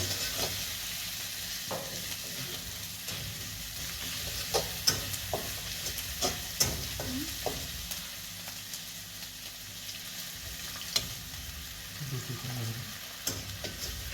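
Two woks going at once, one with masala and aubergine being fried down for a Bengali hilsa meal, give a steady sizzle with scraping stir strokes throughout, fairly quiet.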